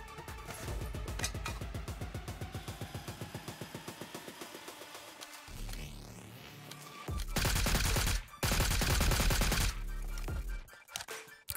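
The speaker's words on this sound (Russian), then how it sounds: "Раз бот по мне стреляет." Bursts of automatic gunfire from a bot in the mobile shooter PUBG Metro Royale, a rapid rhythmic volley followed by louder, denser sustained firing close by, with game ambience and no talk.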